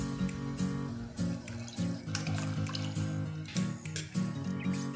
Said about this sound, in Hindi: अब इसमें डाल रही हूँ मैं खट्टी छाछ।